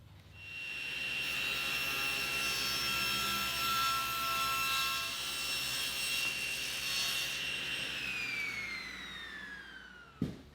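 A wooden table leg clamped in a jig is cut by a power saw, a loud steady whine with rising tone at the end as the blade spins down, alone without talk, ending in a brief knock.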